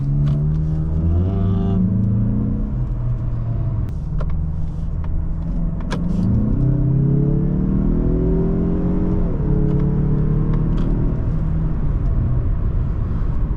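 A 2024 Mazda CX-30 Turbo Premium accelerates hard from inside the cabin. The engine drone climbs steadily in pitch, drops at each gear change and climbs again, loud and continuous, with no talking.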